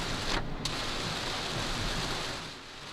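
A heavy rainstorm in Hong Kong under a black rainstorm warning pours as a dense, loud, continuous roar of rain and running water that eases slightly at the end.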